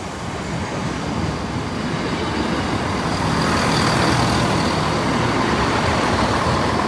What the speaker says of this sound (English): Right, train shortly approaching